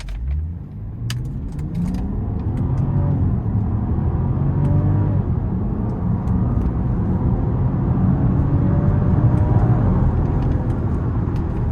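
A 2022 Range Rover Westminster with the I6 engine accelerates hard in sport mode using paddle shifters, its engine note climbing through rising sweeps from inside the cabin, loud and steady for about twelve seconds, with no voices.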